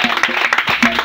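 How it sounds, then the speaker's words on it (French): A church congregation applauds the Lord during a French-language service, with bursts of clapping mixed with scattered voices, fairly close and lively across a short stretch. "j'aimerais qu'on acclame le Seigneur Jésus"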